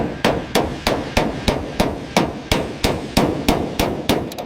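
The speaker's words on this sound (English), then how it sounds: "Listen to the rhythm of the hammer." A hammer strikes car body metal on a Chrysler under restoration, about fourteen sharp, loud, ringing blows in a steady even rhythm, close up with no voices.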